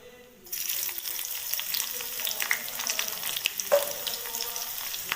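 Garlic dropped into hot oil bursts into a loud, steady sizzle that starts abruptly after a quiet moment and keeps crackling close up with scattered sharper pops and no voices.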